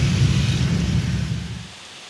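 Heavy rain during a storm in Jakarta roars as a dense, low wash with a deep rumble beneath, then fades out near the end.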